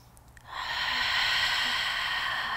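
A loud, deep yoga breath, airy and steady, drawn in and out close to the ear with a soft rushing hiss and no talking.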